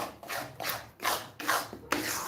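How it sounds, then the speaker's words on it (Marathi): Gulpapdi mixture of jaggery and flour being stirred in a hot kadhai, rough rhythmic scraping strokes of a spatula repeating about five times, close and moderately quiet. "मिश्रण हलवत राहायचं"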